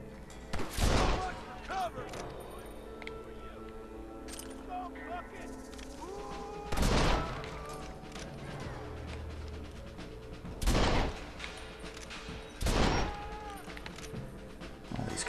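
Gunshots boom in the Red Dead Redemption video game inside a mine, four loud, widely spaced blasts with echoing tails over a low ambient game background.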